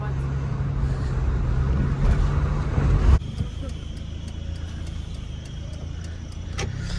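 Steady low engine and road rumble from a car being driven on the road, heard from inside the cabin, with people chatting over the continuous drone.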